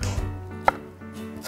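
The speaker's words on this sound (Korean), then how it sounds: "그래서 이렇게 알맞게 썰어주세요" Knife slicing food on a cutting board, two sharp isolated chops about a second apart over a steady low background hum, near and moderately loud.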